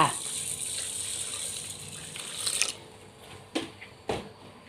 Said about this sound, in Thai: เติมน้ำลงไปจ้า